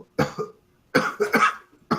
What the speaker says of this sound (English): She starts to cough.